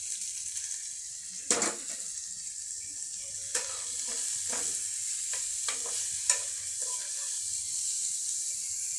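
Steamed leafy greens stir-fried in a hot frying pan: a constant crackling sizzle broken by several sharp scrapes and clacks of a spatula against the pan, close up and without speech.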